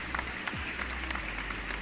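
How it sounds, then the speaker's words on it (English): Steady applause from a talk-show studio audience, a dense patter of many hands clapping at moderate loudness, with no voices over it. "Thanks for the applause"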